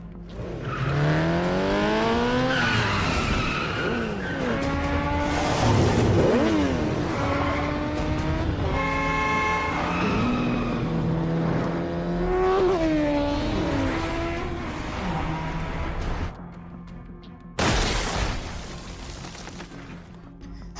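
Motorcycles in a very high-speed chase, engines whining with rising and falling revs that overlap continuously, loud and close, then a sudden sharp burst near the end.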